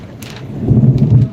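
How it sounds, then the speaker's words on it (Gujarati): Low thunder rumbles through a rainstorm, building after a quiet start into a rolling, moderately loud growl that swells and fades over about a second. "વરસાદ ગાજી રહ્યો છે"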